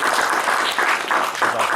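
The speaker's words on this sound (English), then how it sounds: "another round of applause for Michael" A seminar audience gives a brief round of applause for a participant named Michael, loud and close, a continuous dense burst of clapping.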